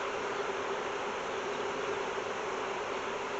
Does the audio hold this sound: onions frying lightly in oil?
no